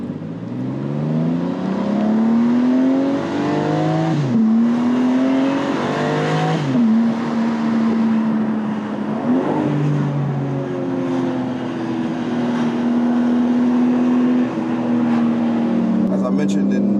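A BMW G82 M4 Competition accelerates hard through several gears, its engine rising in pitch then dropping at each upshift, loud and close from inside the car with a voice talking over it.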